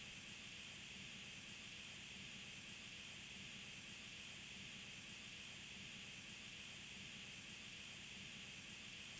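A dental handpiece spinning a medium grit polisher at 5,000 to 15,000 RPM finishes a temporary crown on a lower molar, producing a steady, even, high hiss with no pauses.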